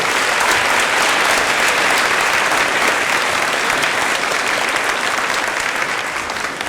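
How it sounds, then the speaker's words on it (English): A school concert audience applauds the orchestra at St. Albans City School, a dense, steady wash of many hands clapping that fills the room for several seconds and tapers slightly at the end. "one more round of applause for the orchestra"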